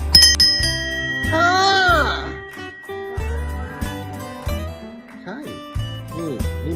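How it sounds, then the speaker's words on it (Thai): A brass ritual bell is struck several times, each ring leaving a bright, shimmering metallic tone that hangs and fades, with brief voices between strikes. "เขาเรียกว่าระฆังพรมสีหน้า ที่ใช้เคาะเมื่อไหร่เนี่ยก็จะเกิดเป็นมงคล"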